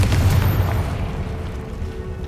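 A Confringo spell explosion in Hogwarts Legacy lands as a deep, loud boom right at the start, then fades into a low, rumbling tail.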